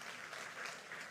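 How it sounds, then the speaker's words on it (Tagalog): A church congregation claps together in a brief, faint burst of applause heard from a distance. "Pumalakpak kay Kristo ang nagpapasalamat."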